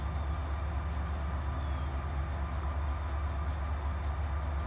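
A freight train with hopper cars rumbles past steadily, a continuous loud rolling drone with a low, heavy undertone and faint high hiss of rain, sustained without a break throughout.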